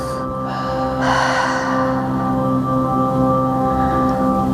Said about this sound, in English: So inhale through the nose. And then exhale through the mouth.